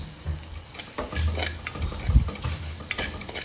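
Curry mixture with green chillies and sugar being stirred in a pan for a Sri Lankan ambarella curry made without coconut, giving soft close scraping strokes over a low sizzle, with no voices.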